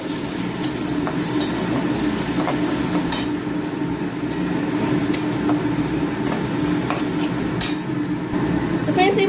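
Spices with Kashmiri red chilli powder, turmeric and a splash of water stirred and fried in a pan for a tilapia fish curry: a steady close sizzle with scraping stirs and occasional sharp metallic clinks throughout.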